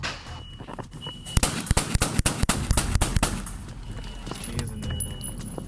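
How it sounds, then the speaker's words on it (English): A sharp barrage of rapid gunfire from a fully automatic Glock handgun, many loud close shots in quick succession, then trailing off into quieter background noise. "Dion unleashed a barrage of gunfire with a fully automatic Glock handgun"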